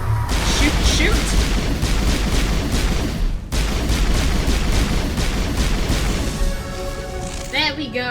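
Rapid gunfire and booming impacts from a firefight in Mass Effect Legendary Edition aboard a derelict freighter, dense bursts of shots continuing throughout, with a brief break midway and faint tonal game sounds near the end.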